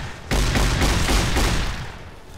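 Shotgun fire in Fallout: New Vegas, a loud dense barrage of booming blasts that starts abruptly and rumbles on for about two seconds before fading.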